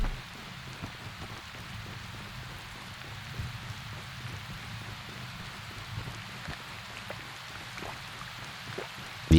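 Rain in the survival game Prologue: Go Wayback! makes a constant, even hiss with faint drips layered over a low rumble, steady for several seconds without speech.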